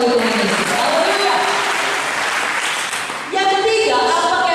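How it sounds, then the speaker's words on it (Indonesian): A church congregation applauds loudly and steadily during a sermon, a dense burst of clapping that dips briefly and then swells again, with voices mixed in. "Berikan tepuk tangan bagi Tuhan Yesus"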